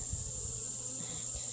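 Honey bees hum softly around an opened hive being checked, a faint steady buzz with no voices.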